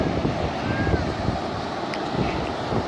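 Strong wind buffets the microphone in a steady, rumbling roar, with faint rushing water beneath it and no clear speech.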